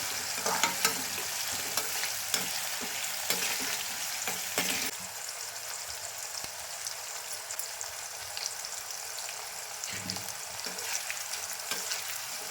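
Bitter gourd chips fry in oil with a continuous crackling sizzle, louder at first with stirring scrapes and pops, then settling into a steadier, quieter hiss, no voices.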